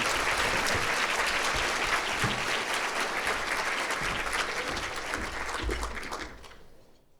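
An audience at an Economic Club of Indiana event applauds to welcome speaker Kate Forbes, a dense sustained clapping that holds steady and then tapers off to silence near the end.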